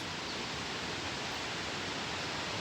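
Marmala waterfall gives off a faint, even hiss of falling water from far off, a broad steady wash with no voices.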